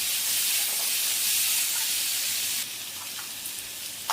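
Potatoes with turmeric and salt are stir-fried in a pan, giving a loud continuous hiss that eases slightly partway through, with a faint clink near the end.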